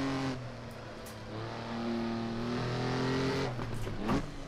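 A Maserati 250F racing engine pulls hard after a downshift into first around Monaco, a steady rising harmonic drone close by, with a brief sharper blip near the end.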